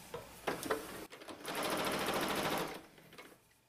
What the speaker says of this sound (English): We're going to stitch right down the middle and then along both sides.